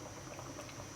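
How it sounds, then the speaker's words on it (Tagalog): Pot of mung beans at a boil, a low steady bubbling and simmering texture that runs evenly and quietly through the whole second, close by with no talk. "kumukulo ng ating balatong"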